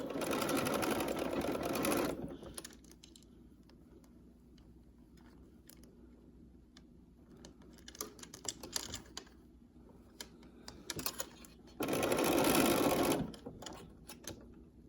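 A domestic sewing machine runs straight stitches on a small scrunchie wristlet keychain, in loud bursts of steady motor hum separated by quieter pauses filled with fabric handling and small clicks.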